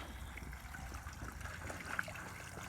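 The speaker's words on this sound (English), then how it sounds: "Water's draining out of it." Water drains out of a bucket of black sand used as a filter, a faint, quiet trickle dribbling steadily with no one speaking.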